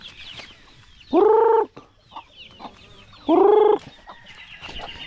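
Native chickens on a farm give two loud, clear clucking calls a couple of seconds apart, with quieter bird chatter and rustling between them.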